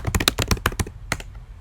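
Quick bursts of keystrokes on a computer keyboard, about a dozen close, crisp taps in an uneven rhythm, then a brief pause and one final key press.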